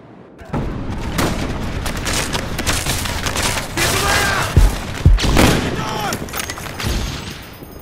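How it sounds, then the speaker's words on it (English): A flashbang grenade goes off amid a Call of Duty: Black Ops firefight, heard as sharp bangs and thuds over dense, continuous gunfire and booming game noise, loud and close. "Метаю световую!"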